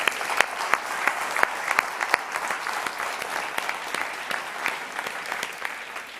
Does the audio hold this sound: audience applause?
yes